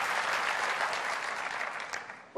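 Audience applause fills a keynote hall at Apple WWDC 2015, a dense, steady wash of many clapping hands that holds for a couple of seconds before tapering off.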